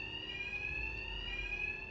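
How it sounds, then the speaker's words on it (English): Steady electronic alarm ringing inside a building during a heist in the video game Batman: Arkham Knight, a continuous high tone holding at even loudness throughout with no voices. "My attacks will be covered by the alarm."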